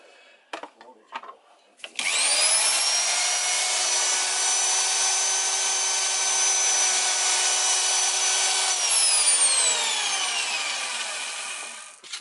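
A bench drill whines steadily for several seconds after a few knocks, its pitch holding then sliding down as it spins to a stop.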